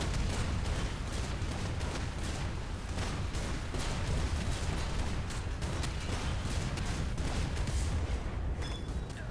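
Warships of a German fleet in a naval video game fire their guns in a dense, unbroken barrage, with booming shots and rumble overlapping steadily for the whole stretch.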